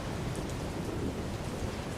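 Heavy rain with rumbling thunder and strong wind, a dense, unbroken roar of downpour with deep low rumble, loud and enveloping.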